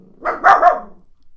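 A dog gives one or two sharp, loud barks up close, with a slight growl in the voice, standing alone with no talking around it.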